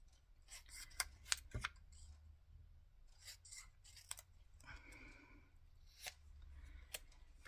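Children's scissors snipping small paper stamps, a series of crisp close cuts in quick bursts with pauses and light paper rustling between.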